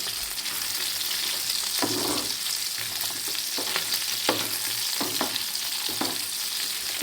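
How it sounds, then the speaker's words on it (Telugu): Chicken fries with curry leaves in hot oil, giving a steady sizzle with occasional stirring scrapes and clinks throughout, with no talking. "ఓ 2 మినిట్స్ ఇలా ఫ్రై చేసుకుందామండి."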